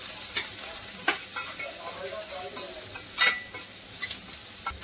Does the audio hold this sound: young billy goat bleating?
no